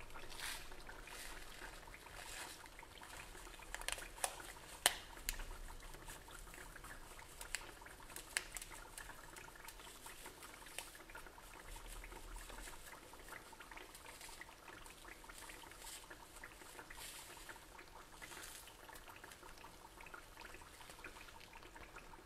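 Calabrian turdiddri frying in a pan make a faint, continuous crackling hiss with scattered sharper pops.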